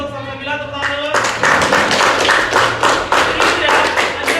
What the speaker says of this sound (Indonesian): terima kasih untuk Salsabila, tepuk tangan dulu.